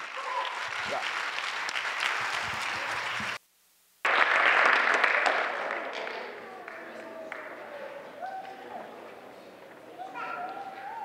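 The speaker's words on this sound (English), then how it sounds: "a round of applause for administration" Audience applause at a spring concert fills the room, dense clapping with a brief gap of near silence, then trailing off with some voices and chatter afterward.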